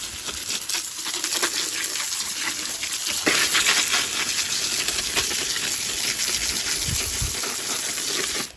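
Water gushes steadily from a hose, washing soil down into holes in a deer-proof hugelkultur raised garden bed, a continuous close splashing rush with small spatters that cuts off at the end.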